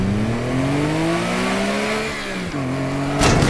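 Car engine revving hard in the video game Teardown, a loud close drone with rising and falling pitch sweeps, a sharp drop midway and a burst of noise at the end.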